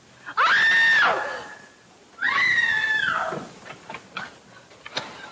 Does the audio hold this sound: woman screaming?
yes